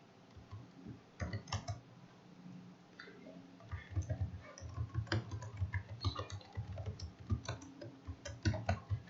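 Computer keyboard clatters as HTML code is typed, quick irregular bursts of key clicks close to the microphone, continuing steadily with brief pauses and no talking.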